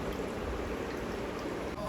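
Heavy rain falling and water flowing in Bahria Town, Karachi, a steady dense rushing wash, fairly faint and unbroken.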